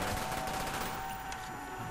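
A wonder weapon fires in the Shi No Numa zombies map of Call of Duty: Black Ops, a dense continuous crackling blast that fills the short moment at close range.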